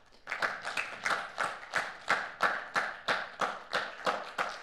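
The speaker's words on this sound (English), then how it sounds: "let's thank Prabha once again with a warm applause" Rhythmic, evenly spaced claps, roughly two per second, from a small group at a Siemens blockchain cybersecurity talk, moderately close and steady, with no voices over them.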